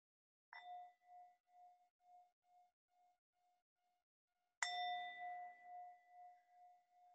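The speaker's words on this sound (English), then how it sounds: "So I'm just going to ring the bell." A small meditation bell struck twice, each time a clear ringing tone that pulses as it fades; the first strike decays to near silence before a louder second strike rings out alone.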